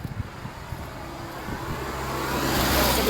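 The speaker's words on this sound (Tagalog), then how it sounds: "tricycle. Ito." A motorized tricycle, loaded full with deliveries, drives past at midday, its engine rising steadily from a low rumble to a louder roar as it approaches close by, with no voices over it.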